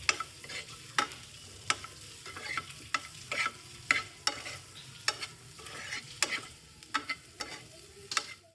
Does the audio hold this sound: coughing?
no